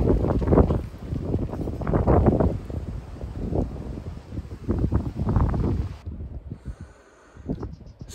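Strong gusting wind buffets the microphone in low, roaring bursts that rise and fade, dropping away briefly near the end, on a chilly day during roof tiling work in Portugal.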